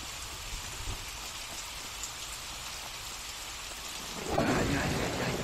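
Steady rain and a thunderstorm fill the Xera survival game, a continuous hiss of falling water with a low rumble of thunder that swells louder near the end.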